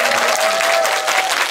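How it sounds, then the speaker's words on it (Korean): A cinema audience at a post-screening talk applauds the actors, a dense and loud burst of clapping from a full room that keeps going steadily, with a faint voice tone running underneath. "우리 고생한 배우들한테"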